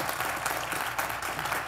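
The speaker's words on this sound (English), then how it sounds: "another round of applause" Brief, steady audience applause during an onstage interview with a documentary filmmaker, a dense wash of clapping heard alone without talk.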